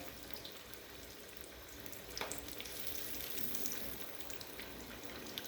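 Cheesy mashed potato balls fry in a pan with a steady, close crackling sizzle throughout, broken by a brief louder burst about midway as a ball is turned.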